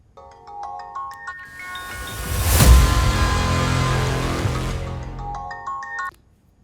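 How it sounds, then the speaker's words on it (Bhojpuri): A phone ringtone plays a melodic electronic tune, rising to a loud swell in the middle and then stopping abruptly, clear and alone with no voices. "केकर फोन है? उठा लो।"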